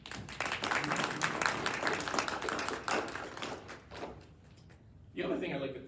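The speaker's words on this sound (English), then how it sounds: "I want to just give a round of applause for Dr." An audience at an event at Drexel gives a round of applause, a dense wash of clapping lasting about five seconds, fading out before a speaker resumes talking.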